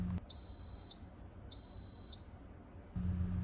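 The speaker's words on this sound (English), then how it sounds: "Those 3 beeps mean that it's starting." An Instant Pot pressure cooker gives two long, loud, high electronic beeps, evenly spaced with a pause between them, followed by a low hum.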